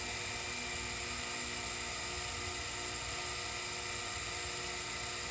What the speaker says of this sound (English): Okay, I'm going to turn the mill on,